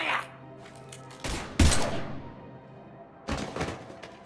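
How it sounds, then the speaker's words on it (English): Video game gunfire with a few sharp, fairly loud shots, spread over a few seconds between quieter stretches of background ambience. "Now open fire!"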